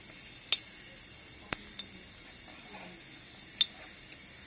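Banana flower fries in hot oil with a low, steady sizzle, punctuated by several sharp spits and crackles at irregular intervals.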